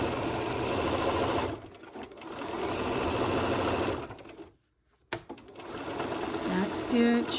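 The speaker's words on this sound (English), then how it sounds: "Back stitch, and then just continue sewing to the end of the tie." Domestic sewing machine back stitching the tie of a cloth facemask, a steady close whirring run that stops briefly, then restarts with short reverse and forward bursts.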